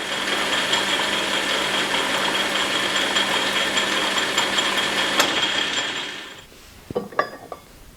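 A lathe turning down a steel bar to make a lead screw nut runs with a steady, loud whirring hum and faint metallic rattle, then winds down and stops, followed by a few light clinks of metal.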